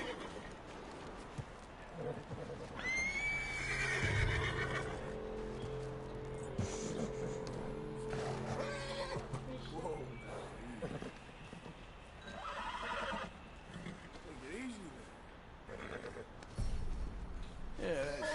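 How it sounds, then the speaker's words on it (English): In Red Dead Redemption 2, a horse whinnies and snorts while hooves clop and shuffle, all layered under the game's ambient sound and spoken dialogue. "And then go grab that horse."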